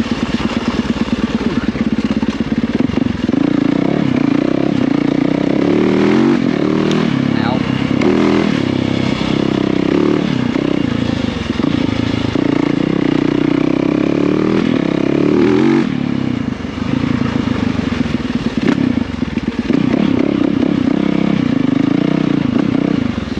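Dirt bike engine droning and revving steadily while riding a tight, muddy clay trail, loud and close for the whole stretch, with a rider talking over the engine noise.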